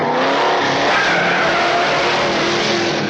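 A 1977 Trans Am in a movie scene, its engine roaring loudly while the tires squeal and skid continuously throughout, close and without any talk.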